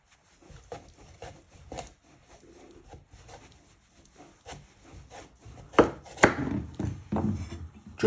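A kitchen knife cuts the end off a pumpkin for soup with a series of scraping, chopping strokes, building to a couple of forceful, louder chops near the end.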